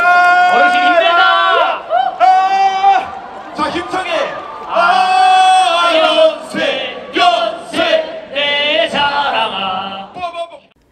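A large university crowd at the Yonsei Akaraka cheer festival chants and cheers in loud, rhythmic bursts, with voices rising and falling in unison and short pauses between phrases.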